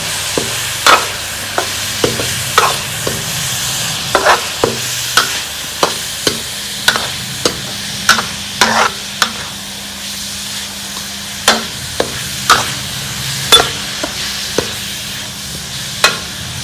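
Masala of coriander powder with red and green chilli frying in a pan, a steady sizzle broken by regular scraping clicks of a spoon stirring, close and fairly loud with no voices.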